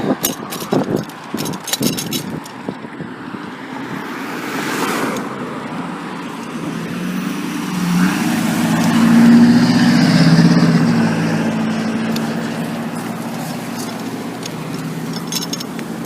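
Road traffic on a busy street in Hurricane, Utah, with a vehicle swelling and passing close by mid-way, then a steady roadway hum, preceded by a few sharp knocks.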